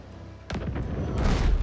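Ship cannons firing in the naval game Abandon Ship, a couple of dull booms in quick succession followed by rumbling, crackling aftermath under a low background bed.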